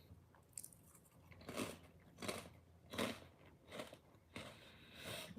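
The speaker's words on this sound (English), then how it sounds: "I'm just crunching all in y'all ear." Crunchy chicken nuggets are chewed right at the microphone, with five or six separate crisp bites and crunches spaced evenly apart over quiet, soft room tone.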